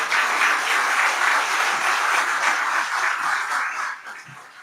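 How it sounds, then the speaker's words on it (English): An audience applauds a congressman and a senator at a Louisiana event on a SpaceX launch site, with steady, full clapping that holds for about four seconds before it thins and fades. "How about a round of applause for them?"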